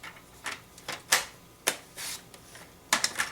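A paper card panel is cut in short, crisp snips and clicks, several separate bursts spaced irregularly, close and quiet with no talking.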